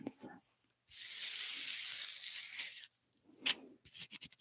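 Hands handling the inserts that hold water globes in their box: close, crinkly rustling and scraping in bursts, a long hiss-like swipe, then sharp taps and crackles, with a voice speaking softly in places.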